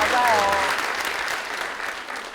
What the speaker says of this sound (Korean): 진짜 박수 받을 만하네요.